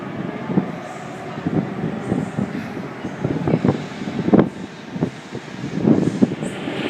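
A Sydney A-set electric train, set A68, pulls away from platform 1 at Chatswood station, with steady rumble and rhythmic wheel clacks over the rail joints, heard nearby with some wind noise.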